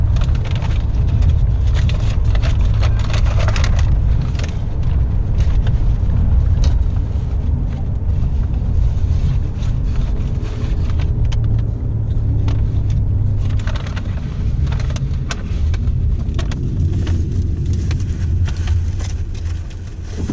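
A car cruises along Highway 38 toward Big Bear, California, giving a steady, loud low engine and road rumble throughout with constant tyre noise and no talk.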